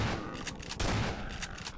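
Several heavy shotgun blasts from Half-Life 2 (The Closure remod) boom out at an irregular pace, loud and close, each with a broad roaring burst and a brief tail, over a steady background rumble.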